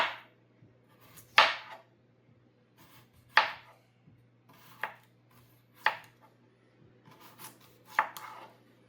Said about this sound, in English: But I first want to just make sure I cut up all the potato.